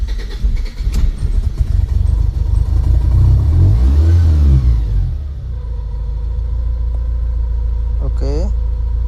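A Honda Accord engine cranks, catches and revs up into a loud rumbling surge, then settles into a steady idle, heard close up with some mechanical clatter and brief voices nearby.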